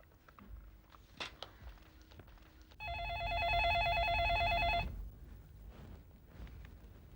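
A telephone rings with a bright electronic trill for about two seconds, clear and fairly close, amid quiet room noise and faint shuffling.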